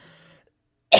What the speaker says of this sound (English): I got a little cough going on.